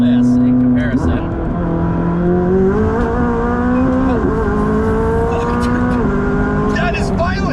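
A McLaren 600LT accelerates hard from inside the cabin, engine pitch climbing in repeated surges with brief drops at each gear change, loud and close, with voices heard over it.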